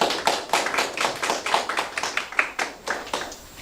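Scattered hand claps from a small audience at a Busan forum on peer experts and mental health recovery, sparse and uneven taps fairly close, with no talk over them.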